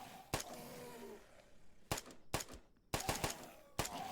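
Heavy-recoil gun firing in the Night of the Dead video game: several loud separate shots and short bursts with gaps of quiet between them, crisp and close.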